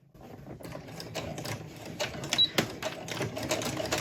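Sewing machine with a walking foot stitching a fall pumpkin table runner, stitch length 2.5 with a back stitch; a fast, steady mechanical patter of needle strokes, close and continuous, with no talking.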